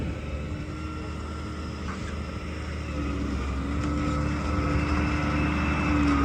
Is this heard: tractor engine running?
yes